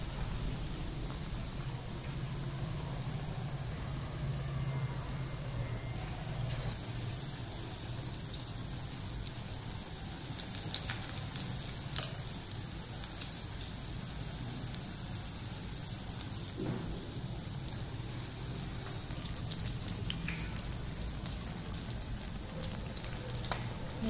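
Stuffed chili pakoras dipped in gram flour batter crackling in hot oil, a soft continuous hiss and sizzle with scattered pops throughout, fairly quiet and steady, with no voices.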